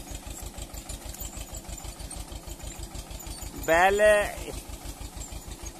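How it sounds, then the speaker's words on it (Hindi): A tractor pulling three cultivators on a sugarcane farm thumps out a steady, even engine beat throughout, with a voice cutting in briefly over it. "और तीन कल्टीवेटर जोड़ रखे ट्रैक्टर के पीछे"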